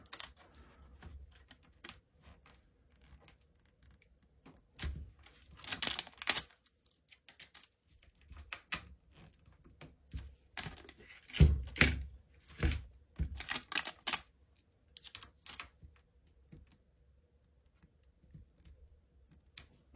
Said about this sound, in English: hold the nut here and then just tighten it with my screwdriver